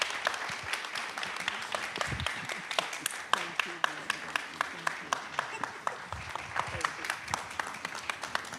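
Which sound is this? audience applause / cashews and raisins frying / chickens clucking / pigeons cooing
audience applause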